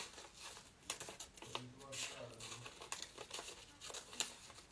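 Scissors snipping and crinkling yellow paper while cutting out star shapes, a series of close, light crisp cuts and paper rustles with a faint voice in the background.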